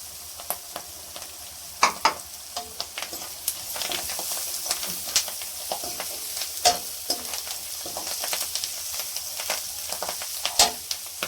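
Curry leaves crackling in hot oil while chicken liver fries, a steady sizzle broken by sharp spitting pops and stirring scrapes, close and continuous with no talk.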